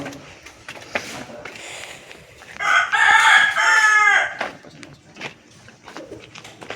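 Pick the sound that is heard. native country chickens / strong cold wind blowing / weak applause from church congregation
native country chickens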